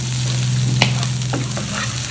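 Squid fry being stirred in a hot pan, with a steady sizzle under a low hum and several scraping, clattering strokes of the spoon against the pan.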